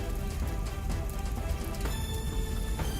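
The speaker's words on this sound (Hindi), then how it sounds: "होटल में आग लगते ही बारिश हो गई।" Steady rain falls in a cartoon story scene, a dense, even hiss of drops spattering on surfaces, continuous and moderately loud throughout with no voices.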